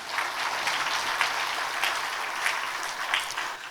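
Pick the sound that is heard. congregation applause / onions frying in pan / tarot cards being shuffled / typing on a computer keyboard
congregation applause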